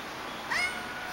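A three-month-old Siamese Burmese kitten gives a single short, high meow, fairly close and clear over a quiet room.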